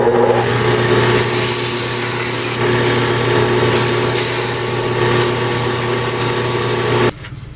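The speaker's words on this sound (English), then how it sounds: "sand that, and I'll use all 320 grit sandpaper" Wooden honey dipper being sanded with 320 grit sandpaper, a continuous close rubbing and rasping that carries steadily for about seven seconds before stopping abruptly.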